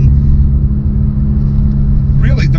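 A 2012 Porsche 991-series 911 driving on the road, its engine a steady, loud low rumble heard from close by, with a brief higher burst near the end.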